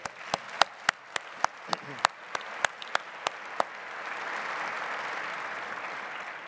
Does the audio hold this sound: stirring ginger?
no